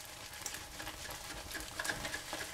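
Okonomiyaki batter cooks in a pan over moderate heat, giving a steady soft sizzle and crackle with faint scattered pops, with no voices over it.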